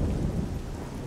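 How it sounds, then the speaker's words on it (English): Heavy rain with rumbling thunder in the fantasy video game Oblivion, a dense steady downpour over a low rolling rumble, loud and alone with no talk. "Oh my god, that rain is so dramatic."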